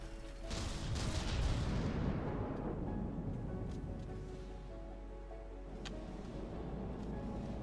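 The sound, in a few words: cram cannons and missiles firing in From the Depths video game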